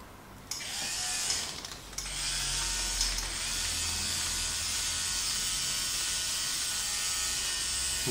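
A tattoo machine fitted with a 5 liner needle buzzes steadily near at hand, a continuous electric whirring drone that starts abruptly and holds level throughout, with no voices.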